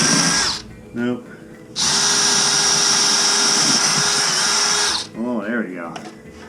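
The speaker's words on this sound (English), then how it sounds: "Let me drill on an angle." A power drill whines loudly in a short burst, then a long sustained run of several seconds, drilling at an angle into a wall near a pipe to find a leak between floors, close up, with a voice heard briefly between bursts.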